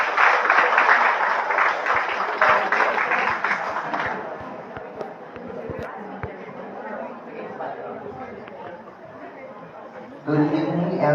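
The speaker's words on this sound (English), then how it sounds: "Please give him a round of applause, please." Audience applause at a university gala night, a dense wash of clapping that is loudest at first and then thins out, mixed with crowd chatter and a voice speaking over the end.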